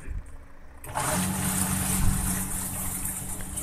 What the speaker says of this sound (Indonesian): Oke, langsung mesin cuci langsung normal.